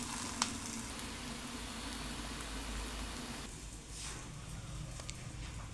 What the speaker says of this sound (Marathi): तव्यावर मस्त तेल टाकून घेतलं आहे आधी. आणि आता याला मस्त खरपूस भाजून घेऊ.